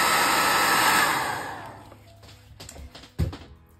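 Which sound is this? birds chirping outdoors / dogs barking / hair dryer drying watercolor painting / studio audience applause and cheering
hair dryer drying watercolor painting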